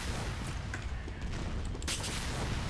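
Gunfire in the video game Team Fortress 2, a dense rattle of rapid shots and booms amid noisy game action, loud and continuous with no talking.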